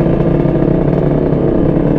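An old two-stroke motorcycle engine revving close by, a loud, buzzy, rattling drone that pulses slightly as the throttle is worked, heard alone without talk.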